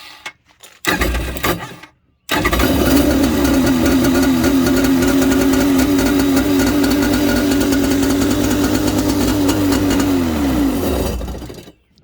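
Jet ski engine sputters briefly, then catches and runs steadily at a loud, close, rattling idle for about nine seconds before cutting off.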